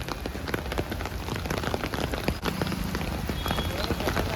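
Heavy rain pours down steadily and close by, a dense continuous hiss of drops drumming on surfaces with no breaks, loud and unbroken throughout.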